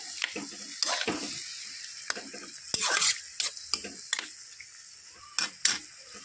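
A pot of water with black khar, a banana-ash alkali, boiling on a cooking fire, with irregular sharp pops and bursts of bubbling close by, spaced unevenly over a quiet background.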